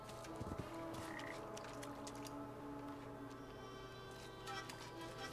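A frog croaks in the video game Papo & Yo, giving a short, soft low burst near the start. The game's ambient sound and music run throughout.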